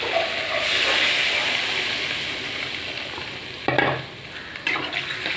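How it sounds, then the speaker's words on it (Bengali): Spice masala for a curry gravy sizzles and fries steadily in a pan, then water is poured in with a sudden hissing surge partway through, followed by a softer bubbling simmer. "এবারে ঝোলের জন্য পরিমাণ মতো জল দিয়ে দেবো।"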